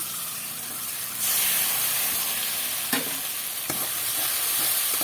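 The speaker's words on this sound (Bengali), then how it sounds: "এটা একটু ভালো করে কষিয়ে নেব" Ginger, green chilli and poppy seed paste sautés with spices in a pan as a dense, close hiss, with occasional spatula scrapes and knocks and a brief lull midway; no voices.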